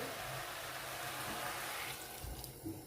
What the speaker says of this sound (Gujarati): हवे पाणी एड करीशुं आपणे।